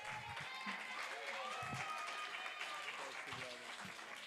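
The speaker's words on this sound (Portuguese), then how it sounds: "palmas!" An audience applauds at a book launch for a collection of African tales: steady clapping that carries across the whole clip, with voices talking over it.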